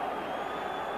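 A big Ibrox football crowd roars in a dense, continuous wash of cheering behind Rangers, steady and distant-sounding across a brief moment.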